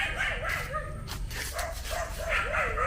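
A dog outdoors on a rural plot of land barks and yips repeatedly in a quick, uneven series, close by and fairly loud, with some higher whining tones between the barks.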